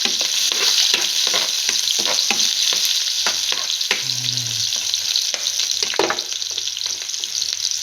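Onions dropped into hot oil in a pan, a loud continuous sizzle with repeated scraping stirs and clacks of a utensil, close up and without speech.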